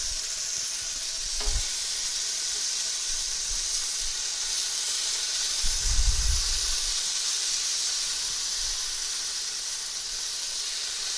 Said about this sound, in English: now we're going to grill the potatoes